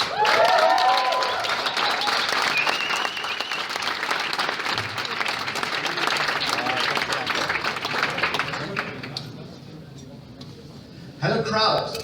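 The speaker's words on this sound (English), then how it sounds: "give a big hand for Helix" Audience applause at a startup demo day, loud sustained clapping from a large crowd filling the room, fading after about nine seconds before a brief burst near the end.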